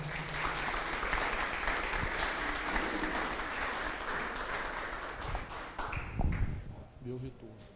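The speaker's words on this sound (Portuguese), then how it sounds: "Aplauda o Senhor, Elionai." A church congregation claps in a steady, moderately distant wash of applause, with scattered thumps and voices emerging as the clapping winds down near the end.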